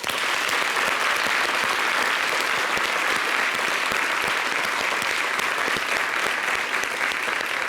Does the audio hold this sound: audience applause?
yes